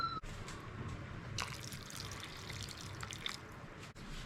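Water poured from a container into a pot of simmering Kenyan tumbukiza broth, a steady trickling splash with soft dripping under gentle bubbling, fairly close and moderately quiet, no talking.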